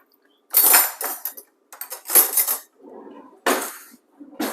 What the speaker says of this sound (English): I'm going to cut the eggs